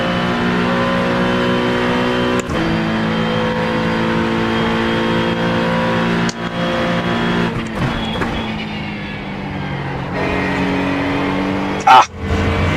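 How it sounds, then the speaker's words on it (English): GT3 race car engines in iRacing at Road America, a loud continuous engine drone with shifting harmonic tones as revs rise and fall, broken by a few sharp gear-change cuts and a brief clunk near the end. "we've got the sound just right for the engines."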